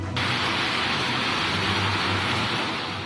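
Torrential monsoon rain during the Pakistan floods makes a steady, loud roaring wash of noise that starts abruptly and holds unbroken, with no voices.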